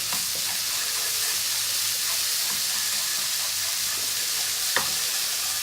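Garlic and ginger fry in a pan over reduced heat, a steady close sizzle and hiss with soft scraping stirs throughout and one sharper clack near the end, no voices.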